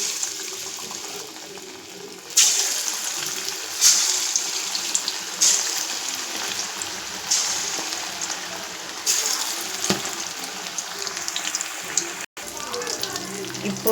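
Chicken 65 pieces deep frying in hot oil give a steady, close sizzle and bubbling hiss throughout, with a few louder crackling bursts as pieces are stirred or added.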